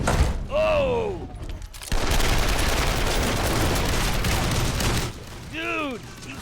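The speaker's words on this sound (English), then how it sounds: "he's shooting while he's in the air" A sustained burst of loud, rattling gunfire in a music video, lasting about three seconds, with short voiced exclamations just before and after it.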